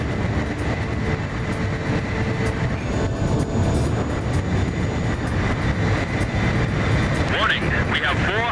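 A fighter jet in Ace Combat 5 roars loudly and steadily throughout, a dense engine rumble with voices running beneath it and a brief rising whine near the end.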